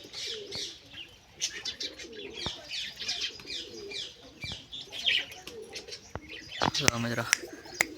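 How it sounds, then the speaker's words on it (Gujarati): A pigeon coos softly in short repeated phrases, close by, alongside chirps, a brief flutter of wings and people talking nearby. "એક નંબર કબૂતર છે"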